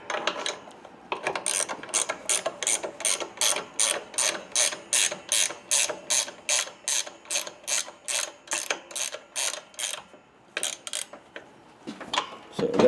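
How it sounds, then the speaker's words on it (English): A speed wrench spins a nut down while an equalizer is installed, giving a close, steady run of rapid ratcheting clicks in even bursts that pause briefly near the end before a final few clicks. "I'm going to use the speed wrench here to actually speed things up"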